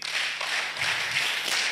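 An audience at a health and sanitation symposium at Tangaza University claps together on cue in a short run of rhythmic, roomy bursts of hand claps.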